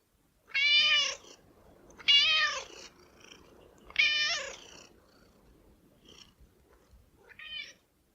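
A cat meows several times, with three clear, fairly close meows and then a fainter final one after a longer pause, against a quiet background.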